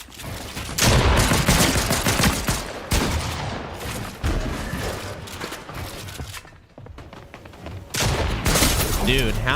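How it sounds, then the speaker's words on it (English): Shotgun blasts and gunfire in a fast-paced shooter video game, a dense, loud barrage of booming shots in rapid succession with brief lulls and a voice talking over the action. "how many shotgun shots can I miss?"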